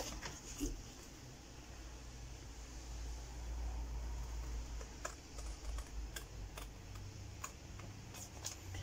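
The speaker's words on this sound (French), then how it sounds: "on prend notre paire de ciseaux" Scissors snip through paper while a tea bag dispenser is cut out, giving soft, quiet crisp clicks and cuts scattered irregularly over a low background hum.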